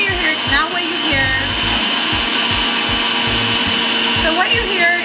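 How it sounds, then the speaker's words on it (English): A Breville Juice Fountain Plus juicer motor runs with a constant high whirring drone, loud and close, while something thumps repeatedly underneath it. "what you hear is the power of the Breville Juice Fountain Plus"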